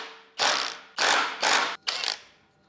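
A ratchet loosening the oil pump sprocket bolt on a BMW F20, four loud close bursts of rapid clicking, each about a third of a second long, separated by short pauses, with no one speaking.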